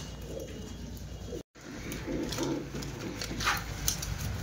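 Giribaz pigeons in a loft give soft, low, repeated coos in the background, with light rustling and small knocks around them and a short silent gap early on.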